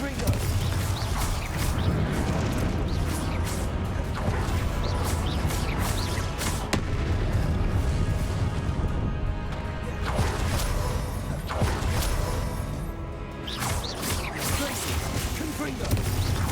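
Spellcasting in Hogwarts Legacy, alternating Glacius and Confringo, heard as a dense, continuous wash of magical whooshes, crackles, impacts and clanks with loud, steady intensity throughout and no break.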